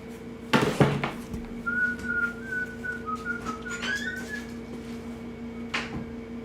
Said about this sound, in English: Fucking song stuck in my head, so y'all have to pardon me for all my whistling.